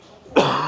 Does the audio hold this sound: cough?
yes